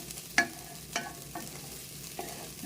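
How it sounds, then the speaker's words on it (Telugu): Egg and bitter gourd fry on high flame in a pan, a faint sizzle under a few sharp scraping stirs of a spoon spaced through the moment. "బాగా హై ఫ్లేమ్ పెట్టుకొని డీప్గా బాగా ఫ్రై చేసుకోవాలా"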